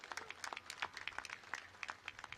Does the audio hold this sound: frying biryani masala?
no